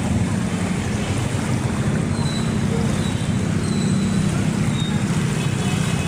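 Floodwater waves from a monsoon flood wash and churn steadily, with a continuous rushing roar, low rumble and wind buffeting the microphone throughout.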